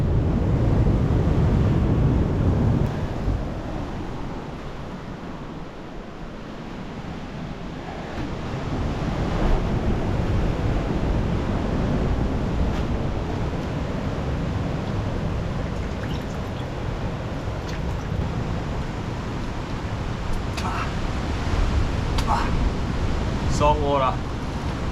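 Big ocean swells rolling onto a shore strewn with driftwood, a continuous broad wash of surf with wind noise on the microphone, and someone talking over it.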